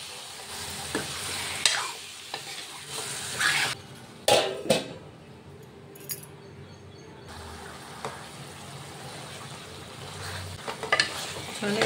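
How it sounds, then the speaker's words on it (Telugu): Chicken and onions fry together in a pan, with steady sizzling under spoon stirring and occasional clinks against the pan. A brief louder scrape comes partway through. "ఇప్పుడు బాగా మిక్స్ చేసుకోవాలి."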